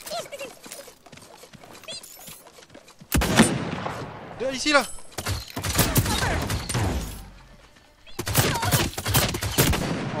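Gunfire in the video game Realm Royale: bursts of rapid shots and impacts, loud and clustered in several volleys with brief lulls, mixed with game effects and someone talking over the action.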